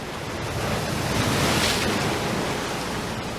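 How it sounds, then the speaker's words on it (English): Loud, continuous wash of ocean surf in the Nancy Drew game Danger on Deception Island, swelling slightly mid-clip with windy hiss and no speech. "The ocean is so loud."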